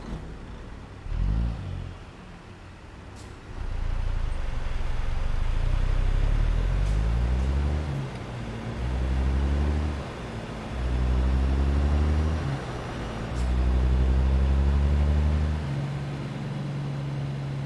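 A deep truck diesel engine in a video game, American Truck Simulator, idles, then revs up and down in several long rising pulls, steady and close, with no talk.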